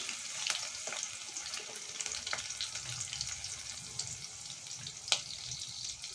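Onions frying in a pan for a spinach and tangra fish curry, with a steady soft sizzle and a few sharp clicks and taps throughout, no talking.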